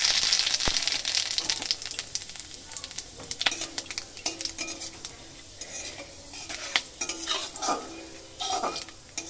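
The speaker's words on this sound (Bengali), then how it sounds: "শুকনো লঙ্কাটা ভালো করে ভেজে নিচ্ছি" Dried red chilies fry in hot oil with a bright, crackling sizzle, joined by frequent scraping and clinking as a utensil stirs the pan, close and moderately quiet.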